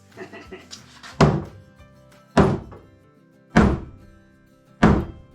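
Four heavy, solid knocks of a mallet striking wooden bench parts together, evenly spaced about a second apart, preceded by a few lighter taps.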